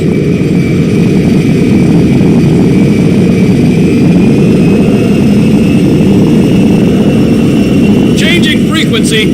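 Steady, loud jet engine roar of the Merryweather jet in the video game GTA V, a dense continuous rumble with a thin high whine running through it, ending in a brief burst of voices over the engine.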